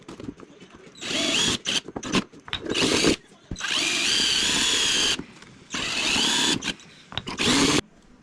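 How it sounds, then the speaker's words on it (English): A power drill bores holes in metal cowl brackets for an RC plane build, running in several loud, close bursts of a second or two, separated by short quiet gaps. "I'm gonna see if I can't try to get a couple of holes drilled"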